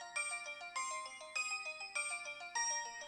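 A bright electronic Disney-branded mobile phone ringtone plays a repeating melodic pattern, cycling several times in quick succession, clear and fairly loud with no voices.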